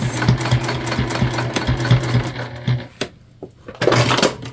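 A sewing machine stitches across the seams of placemat gift bags in quick, rhythmic bursts, loud and close, pausing briefly and then running again.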